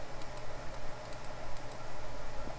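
Code being typed on a computer keyboard, a rapid run of light key taps over a low background hum, close and moderately loud with no speech.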